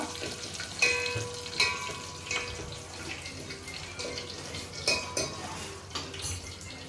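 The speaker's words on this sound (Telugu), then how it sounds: "తాలింపు వేగాలండి పచ్చి పచ్చిగా ఉన్నా మళ్ళీ బాగోదన్నమాట" Tempering spices sizzle and fry in a pan for pappu charu, with steady crackling hiss under repeated metallic clinks of a spoon stirring against the pan and a few louder scrapes.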